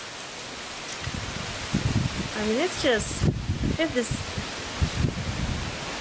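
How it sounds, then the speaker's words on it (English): Wind gusts and steady rain outdoors make a continuous broadband hiss and rustle, with a person talking over it throughout. "there's just a bunch of wind, and it's raining"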